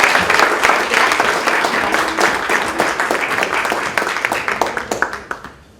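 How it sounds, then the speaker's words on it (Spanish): Audience applause at a book launch on Colombian migration, a dense burst of many hands clapping loudly that gradually thins into scattered separate claps before fading out. "damos un aplauso muy fuerte a Joánica Montalvo"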